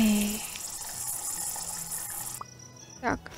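Water gushes steadily from a tap in the Zoo Simulator video game. The flow cuts off partway through, then a brief splash follows and a voice speaks.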